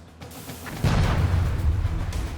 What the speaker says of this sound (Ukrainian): Як тільки дрон підлітає до цілі, вуса змикаються і йде вибух.